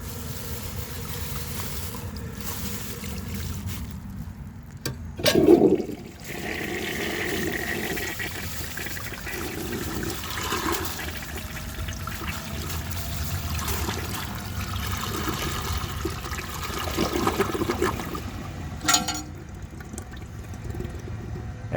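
A 1930 Eljer Sanus toilet flushes with items dropped in, a rushing swirl after a sharp splash, then long gurgling and trickling refill with another surge near the end.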